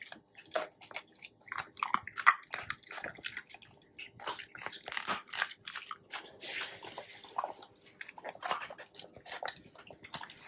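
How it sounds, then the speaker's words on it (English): Wet, squishy chewing and crunching of raw duck feet by a 7-month-old Labrador puppy, in quick irregular bursts, close by, with soft smacking between bites and no talking. "And now she's munching away on the duck feet"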